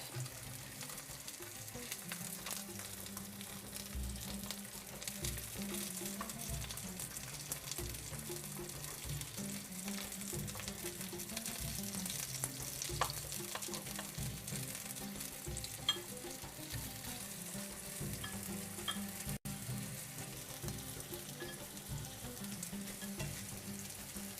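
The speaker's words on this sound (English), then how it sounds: "Now we'll flip it over to cook on the other side." Basterma, a Middle Eastern sausage, fries in a pan after being flipped, giving a close, steady, even sizzle that carries unbroken from start to finish with no voices.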